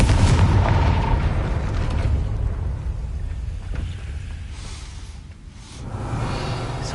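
Confringo fire-blast spell from Hogwarts Legacy, a deep rumbling burst that rolls on and fades, then swells again near the end, with no talk.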